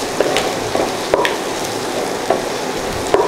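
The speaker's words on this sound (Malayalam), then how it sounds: "പച്ചമുളക്, കറിവേപ്പില ഇതിട്ടിട്ട് നന്നായിട്ട് ഒന്ന് വഴറ്റിയെടുക്കാം" Green chilies and curry leaves sautéing in hot oil in a pan for a stingray biryani, giving a steady low sizzle punctuated by a few light scraping stirs, moderately close with no voices.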